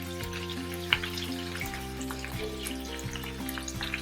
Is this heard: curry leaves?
yes